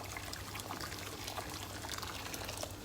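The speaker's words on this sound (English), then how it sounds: "I'm going to pour that into this pan where I've got some olive oil in the bottom" Boiled water from a kettle poured steadily into a pan holding olive oil, a continuous hissing splash and trickle heard close and alone for a few seconds.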